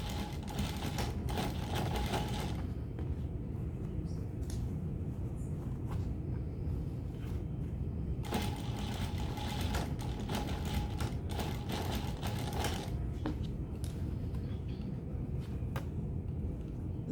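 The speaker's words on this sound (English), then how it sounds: "I'm gonna stitch in the ditch in here just to make it a little bit more difficult." A sewing machine stitches in the ditch along the binding of a bustier, giving a continuous, close mechanical whir with rapid needle clatter and a few brief changes in pace.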